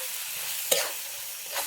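Roasted eggplant bharit mixed with chopped coriander gets stirred in a pan, a soft scraping sweep with one sharp clack of the spoon against the vessel and a second lighter scrape after.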